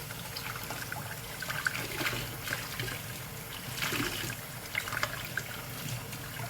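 Water runs steadily from a tap as garden produce is rinsed, a continuous splashing trickle with small irregular spatters, close and moderately loud, with no talking.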